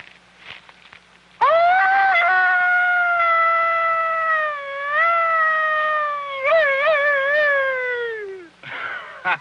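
A voice imitates a coyote howl in one long sustained, wavering cry that rises, holds and slides downward before trailing off, loud and close, with brief rustling before and after.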